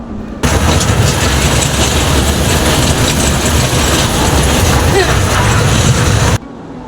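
A small zoo ride train at Bangladesh's National Zoo runs steadily nearby with a continuous rumbling drone, starting and stopping abruptly.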